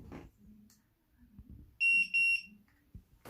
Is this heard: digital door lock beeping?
yes